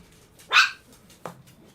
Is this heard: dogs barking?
yes